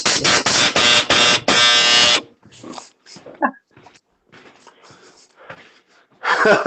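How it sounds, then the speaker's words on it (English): The buzzer on a very old clothes dryer gives a loud, harsh pulsed blare for about two seconds. Quiet rustling follows, then the buzz starts again at the end. "you figure out how to use the buzzer on the dryer"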